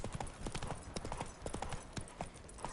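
Horse hooves clip-clop in a steady, even rhythm throughout, in the video game The Witcher 3, with a game-like quality and faint background sounds.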